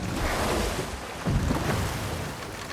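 A boat moves along a river in God of War Ragnarok, with a steady wash of water and wind rushing around it and a brief surge of splashing midway. No one speaks.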